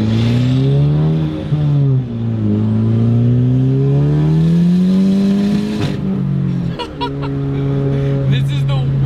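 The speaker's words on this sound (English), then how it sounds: "when you downshift, you get ridiculous pops and crackles" Engine drones and shifts pitch as a 400-horsepower Ford Focus ST revs and slows, followed by a quick series of sharp exhaust pops and crackles on the downshift near the end.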